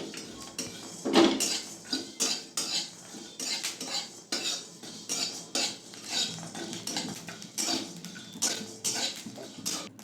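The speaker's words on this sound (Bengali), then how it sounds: "হালকা করে মশলাগুলো সব ভেজে নেব।" Repeated scraping and clinking of a utensil stirring spices dry-roasting in a metal wok, irregular strokes, close by, no talking.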